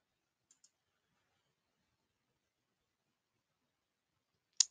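A single faint, sharp computer mouse click sounds in near silence, preceded by two tiny soft ticks.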